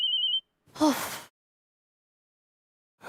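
A mobile phone rings in an Indian TV comedy scene: a brief, high, pulsing electronic ringtone at the start, followed by a short breathy vocal sound, then silence before a faint noise at the end.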